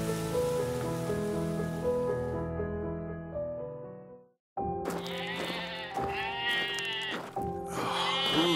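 Sheep bleat in a nighttime nativity-scene setting, with several wavering, layered calls coming through after a steady tonal backdrop and a short pause, fairly close and sustained.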